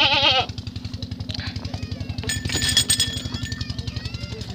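Goats bleating in a village during milking, a wavering cry at the start and more calls later over a steady rhythmic pulsing drone, fairly close and loud.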